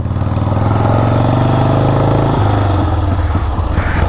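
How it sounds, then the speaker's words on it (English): A loud, close 1977 Harley-Davidson Ironhead Sportster engine, a rigid-mount motorcycle, rumbling steadily at speed, its pitch dropping slightly partway through as it shifts or eases off. "so I can really get a feel for this rigid mount motorcycle"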